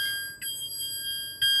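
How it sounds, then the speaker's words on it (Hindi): A 2026 Tata Nexon base model sounds its door-open warning: a steady electronic chime that repeats with short pulses about a second apart, close and clear inside the cabin. "डोर खुला हुआ था, इस वजह से इसने बीप करना स्टार्ट कर दिया"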